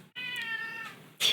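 A pet cat meows impatiently for treats, a single clear, drawn-out meow heard close and loud, followed by a brief sharper noise at the end.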